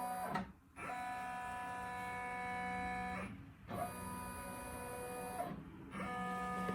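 A home embroidery machine traces a design outline, giving a steady whirring mechanical hum broken by brief pauses, close and fairly quiet.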